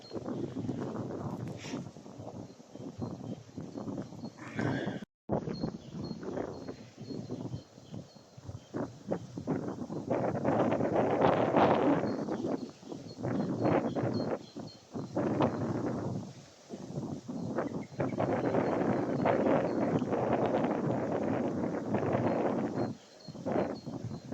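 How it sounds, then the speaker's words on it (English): Strong gusts of wind roar and buffet the microphone continuously, rising and falling in loud surges with brief dips, no one speaking. "it's windy and it's bloody cold"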